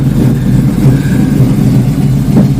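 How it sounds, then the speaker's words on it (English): A 1972 Barracuda fitted with a 6.1L Hemi V8 rumbles at a steady, loud idle, a deep continuous low throb with slight surges and no talk over it. "The whole car is just rumbling, man."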